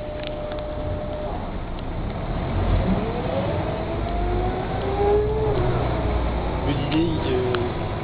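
A Mercedes O405 GN articulated city bus engine running, heard as a loud, steady low diesel rumble with some rising whine from the engine, filling the whole stretch without speech.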